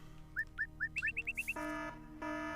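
Alarm in the stealth game Trilby: The Art of Theft: a row of quick electronic chirps speeding up, then a loud sustained two-part siren tone rising in pulses, heard alone.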